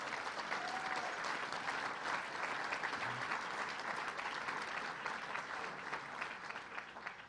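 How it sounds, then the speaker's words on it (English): Audience applause at an award ceremony, steady and sustained clapping from a sizable crowd, fairly distant and even throughout, with no talk over it. "we owe them all a round of applause"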